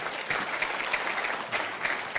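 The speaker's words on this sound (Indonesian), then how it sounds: "Jadi tepuk tangan untuk para leaders card ini ya." Audience applause at a seminar on success in inviting people, a short, steady patter of many hands clapping with a few louder swells.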